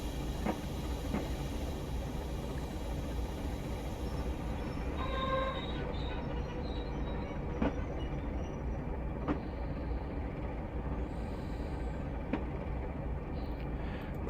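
A Class 37 diesel locomotive in Train Simulator rolls into the station on the Inverness to Kyle of Lochalsh line, a steady low rumble with faint clicks of rail joints and a brief tone midway.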